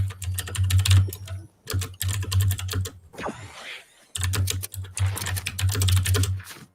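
Rapid keyboard typing with clattering key clicks in dense bursts, broken by short pauses, during a Fortnite livestream chat; the clacking is close and loud, with no talk over it.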